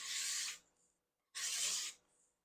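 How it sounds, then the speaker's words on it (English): A hand scraper drawn across wood to lift thin shavings makes two loud, raspy strokes, each about half a second long, with a brief pause between them and no talking. "Just scrape it as you go."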